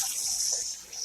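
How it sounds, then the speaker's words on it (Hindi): Water runs from a household tap, filling a tub in a home kitchen or bathroom, a steady hissing splash that stays close and constant with no talking. "पहले पानी भर लेते हैं"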